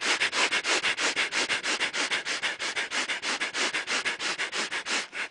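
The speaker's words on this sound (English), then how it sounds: "come into breath of fire, making short, equal inhales and exhales through the nose, like a puppy dog sniffing" Breath of fire yoga breathing in an open class: rapid, evenly spaced short sniffs in and out through the nose, about four per second, steady and close for the whole stretch with no talking.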